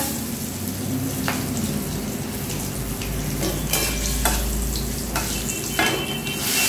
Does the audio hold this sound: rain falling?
no